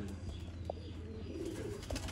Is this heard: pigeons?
yes